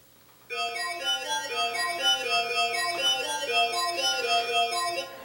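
A synth lead patch called SAR cutting lead, built in FL Studio Mobile, plays a sequence of bright, sustained harmonic chords that change steadily over a low held tone, with no voices.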